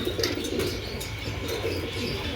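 A male Morasel pigeon coos in a few soft repeated calls against a busy background, with faint chirps and a brief flutter of wings nearby; no one speaks.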